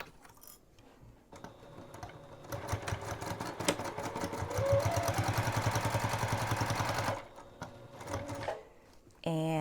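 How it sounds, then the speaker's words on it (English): A sewing machine runs a straight stitch with back stitching at both ends on a boxy bag, giving a loud, fast mechanical rattle for about five seconds, with quieter starts and stops around it. "we're just going to do a straight stitch, back stitch at both ends"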